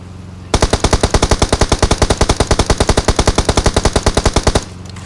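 Rapid automatic gunfire from a battle royale video game, a loud, evenly spaced burst of dozens of shots firing alone for about four seconds before stopping.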